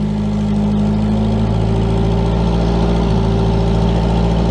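A Toyota 4Runner left to sit for ten years runs with a loud, steady low-pitched drone and a faint whine on top, close by and holding without pause.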